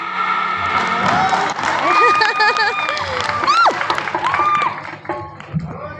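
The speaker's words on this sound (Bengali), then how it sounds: "শুধুমাত্র এইটুকু হাততালি?" A live audience applauds and cheers at a Bengali stage performance, loud clapping mixed with crowd shouts and whistles, while a performer's voice rises over it.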